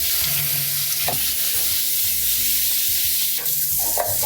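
Rice grains get a quick rinse in water to wash off starch, a steady close rush of water with soft swishing and a few light knocks.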